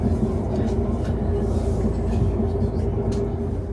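A train rumbles steadily across a big viaduct in Wales, heard from on board as a continuous low roar with faint rattling and a light hum.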